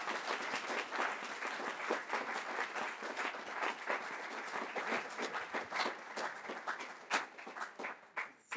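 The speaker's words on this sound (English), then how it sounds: "Please give them a round of applause." An audience at a Berkeley faculty research lecture claps for the people just named, with distinct, individually audible claps that thin toward the end.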